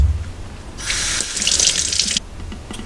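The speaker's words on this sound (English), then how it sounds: "now I'm going to rinse this off" Tap water runs over a Ruike P801 knife with a 14C28N steel blade and a sharpening stone during rinsing, a steady hiss of running water for about a second and a half, close and alone.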